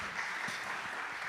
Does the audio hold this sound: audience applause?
yes